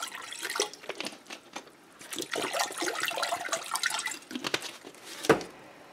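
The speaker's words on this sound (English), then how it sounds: "we're going to pour a little bit of water into a saucepan" Water splashes and trickles irregularly into a saucepan nearby, with a brief clunk near the end.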